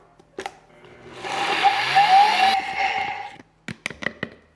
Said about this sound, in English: 2 cups of organic rolled oats that we're just going to blend in our blender until it's a kind of a rough flour